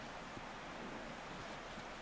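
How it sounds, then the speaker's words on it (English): A creek flows by outdoors in a quiet, peaceful setting, a faint, steady rushing wash of water with no voices. "quiet, peaceful, nothing but the sounds of the creek going by"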